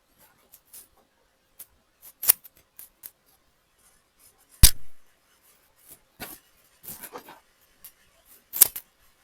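Scissors snip through Brazilian wool thread in a series of short, sharp, close cuts scattered unevenly across the stretch, with a louder snip near the middle and quiet handling noises between them.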